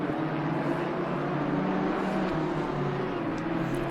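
A V10 engine powering an Audi R8 GT3 race car in Assetto Corsa Competizione, racing at Silverstone, roars steadily as a sustained, loud engine drone with no commentary over it.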